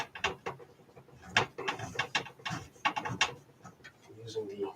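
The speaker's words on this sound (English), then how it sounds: "so we can screw that one down already. It's giving me some resistance here." A drive is screwed down with small screws inside a 386 DX 40 PC case, giving off quick, close, irregular clicking and ratcheting taps as the screw meets resistance.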